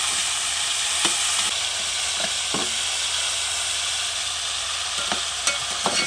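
Tomatoes cooking down in a hot tempering sizzle steadily in the pan, with a spatula scraping and clicking against the metal at irregular intervals throughout.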